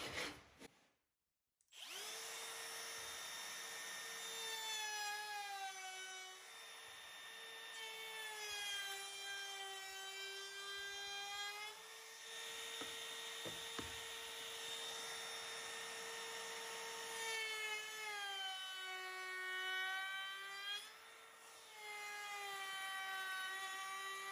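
A router cuts a chamfer across wood end grain with a loud, steady high whine, close, and the pitch shifts as each pass loads the bit, alone without talk.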